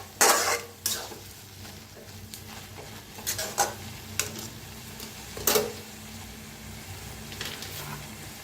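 Fenugreek greens are stirred in a kadhai, a spatula scraping and knocking against the metal in irregular strokes over a soft sizzle, close and fairly quiet.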